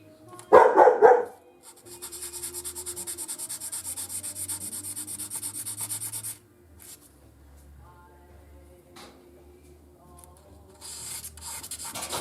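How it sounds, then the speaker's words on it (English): A dog barks briefly, then 600 grit sandpaper rubs steadily over an 1851 Navy single-action revolver in a close, rasping run of about four seconds, followed by quieter, intermittent sanding strokes. "I think we're going to use a little bit of 600 grit here"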